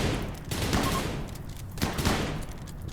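Gunfire from a RimWorld battle, a busy wash of rapid game shots crackling in two dense bursts around the one- and two-second marks, fairly loud and continuous with no talking over it.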